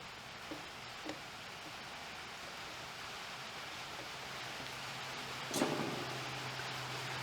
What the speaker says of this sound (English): The rain, it is annoying.